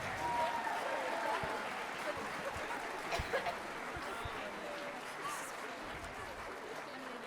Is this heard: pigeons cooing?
no